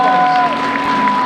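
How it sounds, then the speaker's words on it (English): Applause from an assembly audience at a high school Martin Luther King Day assembly, a dense steady wash of clapping and crowd noise filling the hall for the whole stretch, with a sustained musical tone ringing underneath. "let's give them another round of applause"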